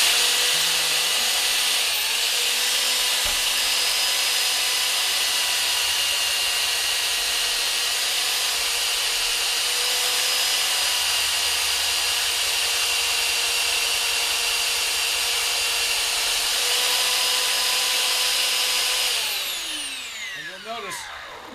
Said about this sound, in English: the belt sander just makes it so much easier.